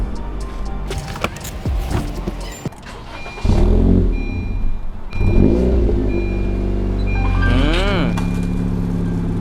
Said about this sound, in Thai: ช่วยสตาร์ทเครื่องผมขอฟังเสียงหน่อยนะ